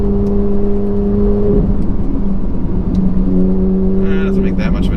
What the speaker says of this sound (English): I love the IPE on a 458. It sounds phenomenal.